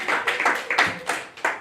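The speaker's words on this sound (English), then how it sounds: "Clap for him." A church congregation claps after a prayer for a new convert, a fairly close, loud series of uneven hand claps coming in bursts about every quarter second, with no voices over them.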